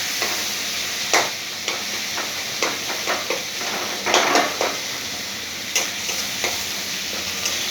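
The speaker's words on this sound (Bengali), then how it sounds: "দিয়ে ভালো করে কষে নিচ্ছি। তেল ছাড়তে শুরু করেছে।" Spice paste for kochur loti (taro stolon curry) fries in oil with a splash of water, a steady sizzle broken by repeated scraping stirs of a spatula against the pan, close and fairly loud.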